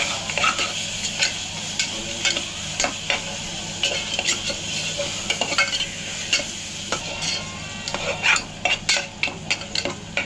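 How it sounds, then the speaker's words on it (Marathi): Masala for a Jain biryani sizzles in oil in a pan while a spoon stirs it, scraping and clinking against the metal in an irregular rhythm over a steady, close frying hiss. "तर आता याला मस्त तेल वेगळं होत आहे, मसाला आपला शिजत आलेला आहे"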